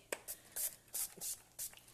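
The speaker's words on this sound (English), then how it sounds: "So we're just going to spray that lightly on the face." Makeup primer sprayed lightly onto a teenager's face, several short soft hissing bursts in quick succession, quiet and close.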